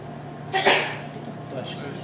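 A person gives a single sharp sneeze, close and abrupt, with a short breathy tail and faint room noise around it.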